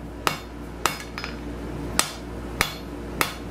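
Hammer striking steel bar stock while forging an asymmetrical taper on an anvil, five loud ringing blows at an uneven, roughly half-second pace with a faint hum between them.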